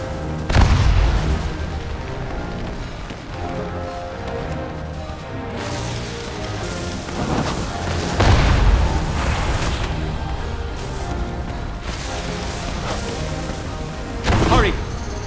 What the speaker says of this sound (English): Those bombs have enough firepower to destroy the turrets!